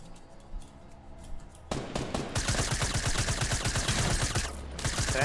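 Gunfire in the video game Fortnite: quiet at first, then a sudden, loud burst of rapid automatic shots rattling continuously for several seconds, with a brief pause near the end.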